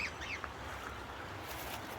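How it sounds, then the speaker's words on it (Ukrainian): A few faint duck quacks rise near the start from ducks on the water in a German village setting, heard over a steady outdoor background hiss. "Ну і куди без качок, ні? Качки то везде є."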